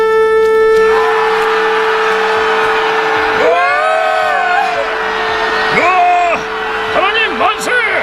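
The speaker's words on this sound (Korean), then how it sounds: "나팔을 길게 불 때 모두 크게 함성을 외치세요" In a retelling of the Jericho story, a long sustained horn note opens, then a group shouts and cheers loudly in bursts of raised voices.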